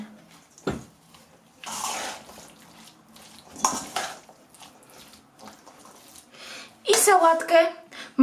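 A spoon stirs a young potato salad in a bowl, making irregular scraping and clinking scrapes against the dish in several separate bursts, with a sharper clatter near the end.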